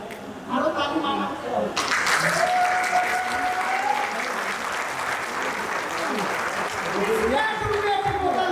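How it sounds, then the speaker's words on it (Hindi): An audience at an anniversary function claps loudly and continuously after a faint start, with a voice talking over the applause throughout. "मारो ताली मारो"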